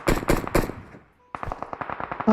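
Bursts of automatic gunfire from the mobile battle-royale game PUBG Mobile: three loud rapid volleys, a short pause, then a longer stream of quicker shots, mostly clear of talk.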